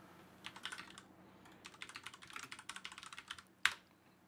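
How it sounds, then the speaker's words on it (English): Rapid typing on a computer keyboard, close and clear, with bursts of quick key clicks in a quiet room ending on one sharper, louder keystroke. "Now here we can type search eternal."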